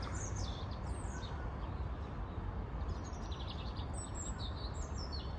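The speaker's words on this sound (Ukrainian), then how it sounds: "так пташки сьогодні щебечуть" Several birds chirp and twitter faintly at a distance in a Kyiv botanical garden over a steady, rushing outdoor background, with short calls scattered throughout.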